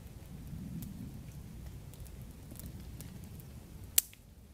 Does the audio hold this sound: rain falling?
yes